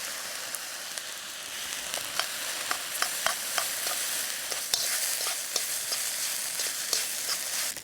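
Leftover rice frying in a pan with soy sauce and chili garlic sauce, a steady close sizzle with scattered sharp pops and scraping stirs throughout, no voices.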